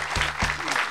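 Audience at a French comedy show applauds in a burst of dense, loud clapping, with a few sharper individual claps punctuating the steady roar across the short stretch.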